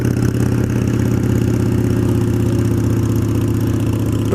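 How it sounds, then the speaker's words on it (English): A Harley-Davidson Sportster motorcycle engine runs loud and steady nearby on a canyon dirt road, its low rhythmic engine pulse continuous throughout with no speech. "There comes Mike in the Sportster."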